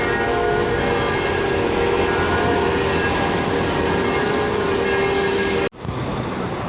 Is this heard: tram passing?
yes